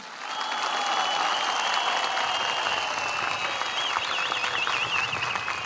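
A crowd at an outdoor political rally in Antalya applauds steadily and at a distance, with a whistling or siren-like tone wavering above the clapping.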